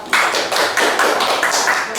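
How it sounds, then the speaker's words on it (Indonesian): A classroom of students claps together in quick, rhythmic bursts, close and loud, with no voices over it. "Ya, tepuk tangan untuk kalian semua."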